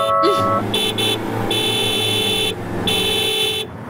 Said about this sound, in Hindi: हॉर्न सुनाई नहीं देता क्या?